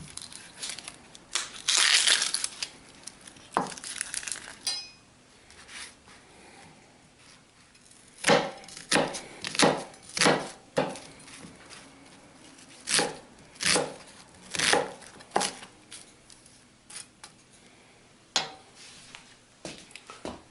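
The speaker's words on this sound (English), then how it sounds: "Peel and chop the onion." An onion being chopped on a board for pan-fried chicken wraps: a brief scrape and rustle of handling at first, then a steady run of sharp knife chops of varying strength, loud and close, with no talking.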